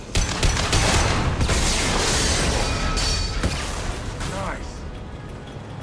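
Rifle fire in Mass Effect Legendary, with loud sharp shots and a dense crackling barrage that eases toward the end, under a brief spoken word and game clutter.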